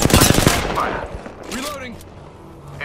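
Rapid gunfire rattles in a dense burst at the start of an Apex Legends arena match, loud and close, then fades as a character shouts in-game callouts.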